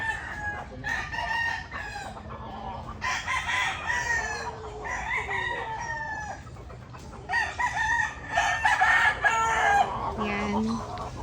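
Chickens on a small backyard poultry farm cluck and squawk close by in repeated bursts, with a rooster crowing among them.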